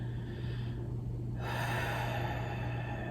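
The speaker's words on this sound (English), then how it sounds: "using those long, slow exhales are one way" A long, slow exhale during a chair yoga breathing practice, a steady soft breathy rush that swells after the midpoint and holds to the end, close and alone with a low steady hum underneath.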